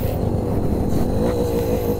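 A low-cc two-stroke motorcycle revs hard during wheelie practice, a loud, buzzing engine note close by that climbs and wavers in pitch throughout.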